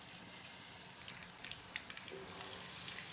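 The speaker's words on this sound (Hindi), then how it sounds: "अब हम इसको अच्छे से प्याज को लाइट गोल्डन करेंगे" Onions, whole chillies and cumin seeds fry in hot oil for a dal tempering, a steady, soft sizzle with light crackles and pops and no talking.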